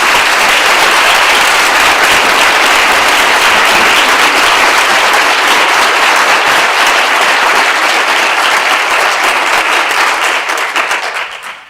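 An audience at a medical school lecture applauding to welcome a speaker, heard as loud, dense, sustained clapping from a large crowd that carries on steadily before tapering off at the end.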